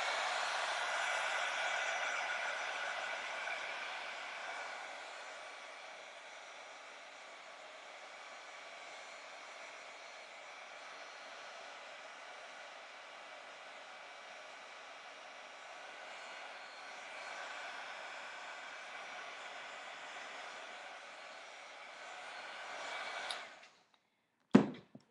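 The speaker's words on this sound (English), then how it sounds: "I'm going to hurry and turn on the heat gun one more time." A heat gun blows a steady, loud whooshing drone while drying a steampunk-style spellbook embossing craft project, easing slightly midway and cutting off near the end with a click.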